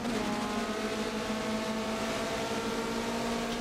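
Mazda MX-5 Cup race cars at the Silverstone National circuit, a steady high engine drone from a cluster of cars held at constant revs, fairly distant and continuous, with no talking.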